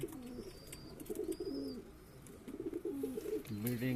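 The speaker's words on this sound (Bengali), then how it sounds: "এই যে পায়রাটা দেখতে পাচ্ছেন এটাও দুদিন আগে এসছে" Young high-flying pigeons in a loft give repeated low, rolling coos in several short phrases, fairly close against a quiet room.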